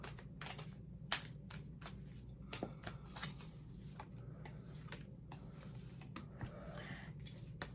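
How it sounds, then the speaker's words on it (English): Cards are shuffled quietly again and again, a steady run of soft riffling flicks and taps with no talking. "I'm just going to shuffle these cards up just one more time."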